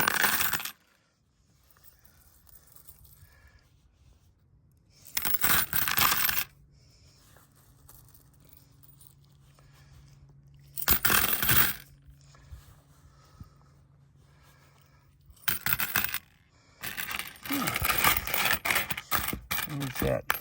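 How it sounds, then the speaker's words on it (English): Coins found on a metal detecting hunt with a Minelab Equinox 800, including an Indian head penny and silver, clink and jingle in several separate bursts as they are handled and dropped, with quiet pauses between. "let me show you all the coins that I found for this fast little hunt that I just did"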